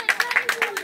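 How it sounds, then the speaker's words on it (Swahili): An audience claps to welcome a teacher at a Bible lesson gathering: a quick run of about eight sharp, evenly spaced claps, close and fairly loud, with no talk over them. "akija tunapiga makofi"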